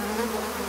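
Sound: mosquitoes buzzing

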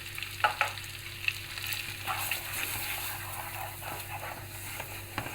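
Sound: semolina being roasted and stirred in a pan for helva

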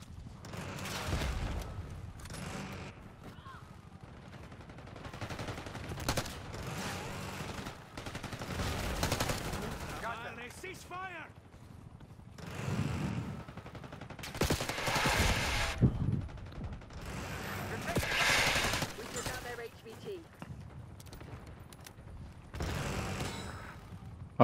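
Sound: gunfire in a video game shooter

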